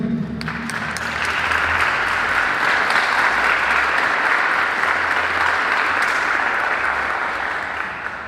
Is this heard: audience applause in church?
yes